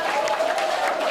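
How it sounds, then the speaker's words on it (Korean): Audience clapping at a talk concert in Busan, a brief, steady burst of applause from a crowd, fairly loud and even for about a second with no pauses. "동의하시면 박수 주십시오."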